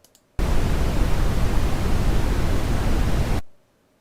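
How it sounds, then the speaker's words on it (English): A steady burst of dense, rushing noise, low and rumbly, starts abruptly, holds for about three seconds, then cuts off into near silence. "And now Gaussian brown noise."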